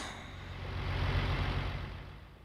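Truck traffic in the video game Farming Simulator 19: a low engine rumble swells as it passes close by, then fades away, with no talking.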